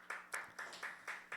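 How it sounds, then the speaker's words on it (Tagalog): A church congregation claps in a steady, rhythmic beat, about six sharp hand-clap bursts evenly spaced, faint and fairly close, with no talking. "Palakpakan naman natin ang Lord."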